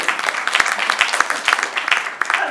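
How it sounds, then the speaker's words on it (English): An audience claps for a speaker on stage. The applause is moderate and sustained, with a few sharper individual claps standing out from the crowd across the short stretch. "I don't think I've ever gotten applause for saying I'm 54."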